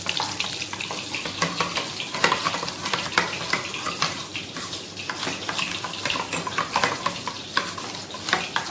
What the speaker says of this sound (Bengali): হালকা করে একটু ফেটে নিলেই হবে